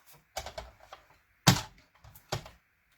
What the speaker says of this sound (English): Who's triggered when I rip these pages like this?